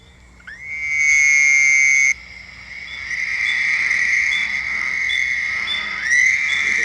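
A Fowler's toad gives a long, nasal, buzzing trill, loud and near, then calls again after a short gap, with faint high peeping from other frogs behind it.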